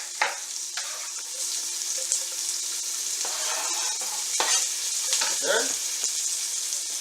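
Onions fry in a pan for a lamb shank dish, giving a loud, steady sizzle with intermittent stirring scrapes and bursts of crackle; a voice briefly speaks.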